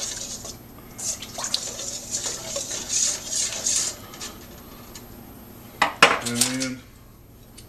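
Yeast is mixed into flour in a bowl for no-knead ciabatta dough: a spoon or utensil scrapes and clinks against the bowl in scattered bursts, then louder knocks near the end, with a brief spoken word.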